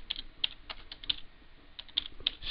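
Typing on a computer keyboard while entering a command on a Cisco 2500 router console, a quick irregular run of crisp key clicks, close and with no talk.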